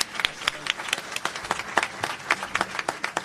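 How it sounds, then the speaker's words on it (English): Audience applause at a Juneteenth celebration in Washington State, a small group clapping with distinct sharp claps at a moderate distance, continuing briefly with some murmured voices. "Now let's give a round of applause for that."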